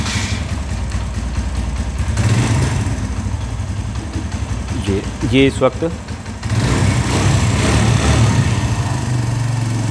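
A Suzuki GS 150 SE motorcycle engine idles with a misfire, a steady close mechanical rumble running throughout while someone talks over it.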